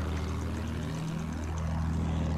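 Propeller engine of an attack plane in the video game Battlefield 1 drones steadily at close range, a continuous buzzing roar whose pitch bends slightly as it maneuvers, with no talk over it.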